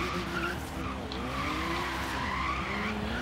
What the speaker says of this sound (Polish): zobaczmy, czy w ogóle damy radę zabuksować kołami